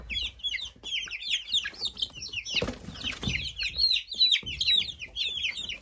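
Many chicks cheeping and chirping continuously indoors in a dense, overlapping chorus, with brief low rustling partway through.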